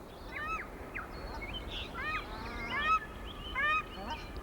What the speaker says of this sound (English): paradise ducks in faithful pairs arrive to share the sheltered pasture